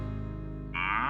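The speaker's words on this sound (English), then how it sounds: "The cow mooed." A single cow moo, a low harmonic drone lasting about a second, loud and close, shifting to a brighter, rougher tone at the end.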